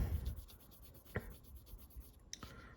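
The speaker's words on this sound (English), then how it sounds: "sanding it" Fine 1500-grit sandpaper rubbed over a small plastic Gunpla model part to remove nub marks, a soft, close scratchy rasp in short repeated strokes with occasional light ticks.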